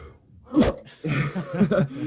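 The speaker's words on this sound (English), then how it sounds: "sorry, I'm going to sneeze" A single sharp sneeze bursts out, then a person talks right after it.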